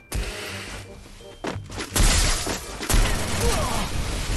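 Sniper rifle shots fired in the Free Fire mobile battle game: a few sharp, loud bursts and booms among busy in-game noise, with a voice talking underneath.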